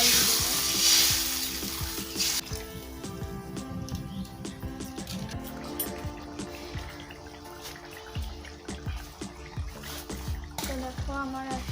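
Water is poured into jackfruit curry frying in a pan, bringing a loud burst of sizzling and splatter that settles into steady frying with soft stirring, while someone talks over it.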